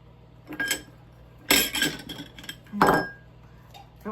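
Brownie batter with banana being mixed by hand in a bowl, scattered clinks and scrapes of a utensil against the dish in a few distinct bursts with quiet gaps between.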